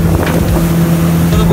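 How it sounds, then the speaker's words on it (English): Speedboat engine running on a bay off Cat Ba Island, a loud steady low hum close to the microphone with wind buffeting over it. "So the boat is started now."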